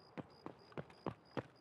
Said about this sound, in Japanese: ほんとだ、足音がしますね。